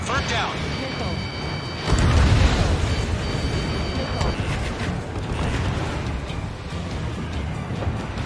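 A missile explosion in the video game Ace Combat 7 lands as a heavy boom amid dense jet roar and battle noise, while radio chatter and voices carry on over it.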